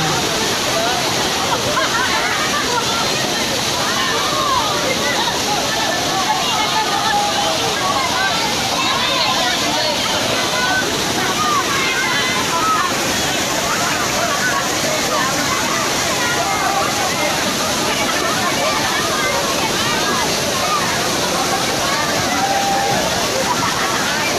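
Waterfall at Secret Falls pours in a loud, steady roar with splashing and churning water throughout, close and unbroken, with voices faintly mixed beneath the rush.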